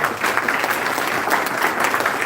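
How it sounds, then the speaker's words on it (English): Steady, dense applause from a crowd, continuous clapping throughout with no talking. "we should all clap for ourselves and clap for the department"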